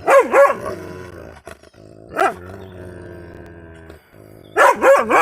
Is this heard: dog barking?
yes